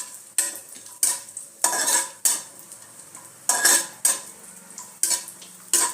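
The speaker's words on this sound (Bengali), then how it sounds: "এর মধ্যে আমি কাজু কিশমিশটা একটু ভেজে নেব" Cashews and raisins frying in ghee are stirred with a metal spoon, giving repeated scraping, clinking strokes against the pan in uneven bursts over a faint sizzle.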